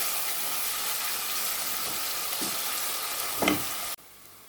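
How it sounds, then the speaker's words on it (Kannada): Onions sizzle steadily in a pan for chicken biryani, a bright continuous frying hiss with a brief stirring scrape near the end before the sound drops away sharply. "ನೋಡಿ, ಈರುಳ್ಳಿ ಇಷ್ಟು ಕೆಂಪಾಗ ತನಕ ಹುರಿಬೇಕು"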